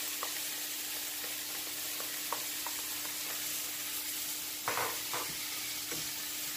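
Salted cod sizzling and frying in a hot pan for a Puerto Rican guanime con bacalao stew, a steady close crackle broken by a few stirring scrapes, with no voices.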